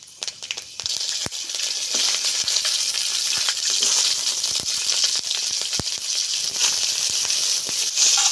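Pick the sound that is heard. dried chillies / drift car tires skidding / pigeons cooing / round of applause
dried chillies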